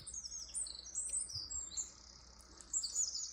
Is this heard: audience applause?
no